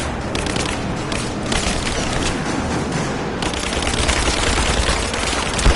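Dense rapid gunfire from a Rise of the Tomb Raider firefight, with overlapping bursts and heavy booming shots roaring continuously at close range.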